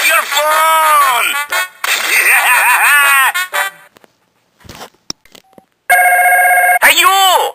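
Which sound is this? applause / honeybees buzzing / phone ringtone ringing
phone ringtone ringing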